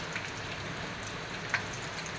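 An evening snack frying in a pan of hot oil, heard as a soft, steady bubbling sizzle with a couple of sharper pops, quiet and close.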